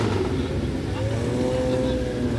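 A Rauh-Welt Begriff (RWB) widebody Porsche at a Porsche car gathering gives a steady engine drone with a rising tone, heard amid continuous crowd and traffic noise.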